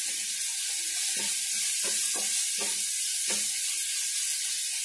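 Onion sizzles in hot oil in a kadai while chhole gravy is cooked, a steady loud hiss broken by several scraping stirs of a spoon, with no voices.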